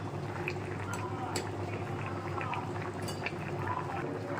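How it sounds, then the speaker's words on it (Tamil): A pot of fish curry made with lake vavva fish simmers close by, a dense continuous bubbling with small drips and pops. "மீன் வந்து சூப்பராக கொதிச்சிட்ருக்கு பாருங்கள்"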